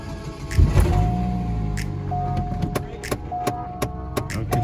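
A Chevy Cobalt engine cranks with a brief low rumble, then settles into a steady idle hum broken by scattered clicks and knocks, recorded up close.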